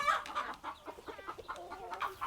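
Several chickens clucking on a poultry farm, a busy overlapping chorus of short calls from a flock held close by, steady throughout with no voices over it.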